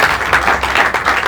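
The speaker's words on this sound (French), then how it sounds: "Elle mérite encore un peu plus d'acclamation que ce que vous avez fait" A crowd at a public gathering applauds with steady, fairly loud clapping throughout, pulsing in small waves with no break.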